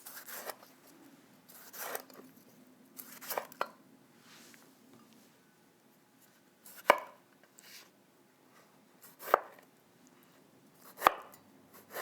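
A knife chops through a tomato on a cutting board: a few scattered soft cuts early, then three sharp, separate board knocks spaced about two seconds apart, close and clear with no talk.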